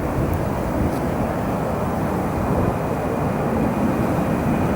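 An Airbus A380 at O'Hare International Airport at night produces a loud, steady broadband engine roar that holds constant throughout, with no break or change in level.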